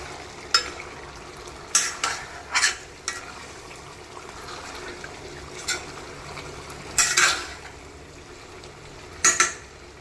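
Tomatoes sizzle in a pan with cooked chicken in oil under a soft, steady fry, broken by several sharp clinks and scrapes of a utensil stirring against the pan.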